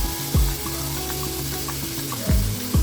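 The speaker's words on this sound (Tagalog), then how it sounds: "Gigisa lang natin ito ng 5 to 7 minutes para mas maganda yung aroma." Shredded chicken breast sautés in a pan with a steady, close sizzle, broken by a few sharp scraping strokes of a spatula against the pan.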